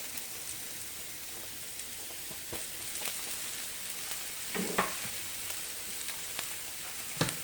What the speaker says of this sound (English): I've had them searing for about 4 minutes each side